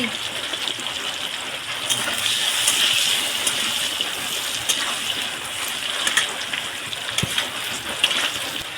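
Heavy rain pours down in a dense, steady hiss, broad and continuous with occasional sharper splashes, heard alone without talk.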